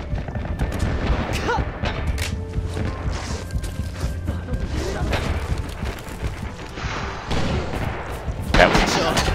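Gunfire in Red Orchestra 2: Rising Storm jungle warfare, with rifle shots and bursts crackling near and far over continuous battle noise and distant booms, mixed with voices.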